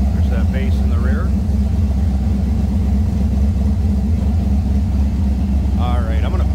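A deep, steady exhaust rumble from an idling 1937 Ford Cabriolet street rod engine fills the clip, loud and close, with brief voices over it.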